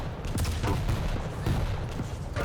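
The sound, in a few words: railgun and rapid-fire hitscan weapon shots in a video game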